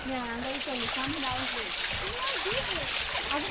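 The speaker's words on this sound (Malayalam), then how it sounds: "നല്ല അടിപൊളി ഒരു വാട്ടർഫാൾ. അടിപൊളി വെള്ളം വരുന്നത്" Water rushes and splashes at a waterfall in a steady broadband roar, close and loud throughout, with people talking over it.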